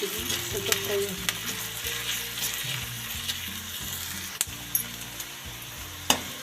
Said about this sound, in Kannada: ಹಸಿಮೆಣಸು ಹಾಕ್ತಾಯಿದ್ದೀನಿ ಫ್ರೆಂಡ್ಸ್. 2 ನಿಮಿಷ ಆಗಿಬಿಟ್ಟಿದೆ. ಸ್ವಲ್ಪ ಫ್ರೈ ಆಗುತ್ತೆ.